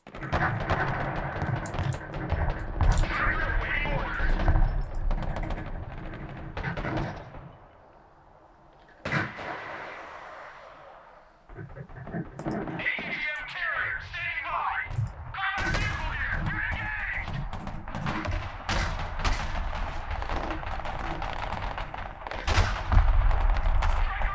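An artillery barrage in the military strategy video game Broken Arrow, with heavy booms and crackling blasts rolling in dense waves, a short lull in the middle, then renewed sustained fire, all loud and close.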